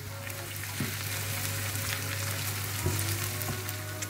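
Vegetables sauté gently in a pan with small pieces of fresh ginger, giving a soft, steady sizzle under a low hum, with a couple of faint utensil taps.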